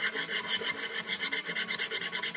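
Sandpaper wrapped on a small scrap wood wedge is rubbed back and forth over a carpenter's tool chest tray, producing steady, close, rhythmic rasping strokes with no talking.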